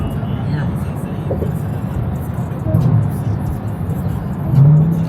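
A BMW car engine breathing through a mid-muffler exhaust rumbles low and steady from inside the car, swelling slightly a couple of times.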